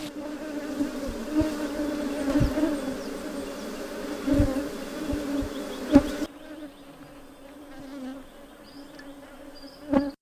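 Honey bees buzz steadily at a beekeeping site, a dense insect drone with a few louder bees passing close by; the swarm noise thins noticeably toward the end, leaving a quieter hum.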